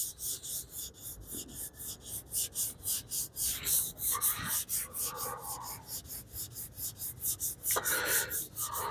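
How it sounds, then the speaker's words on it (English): Fine 380-grit sandpaper on a sanding block rubs back and forth across cured car body filler in steady, regular strokes, close and fairly quiet, with no talking. "I'm using the finest sandpaper that I have for this block"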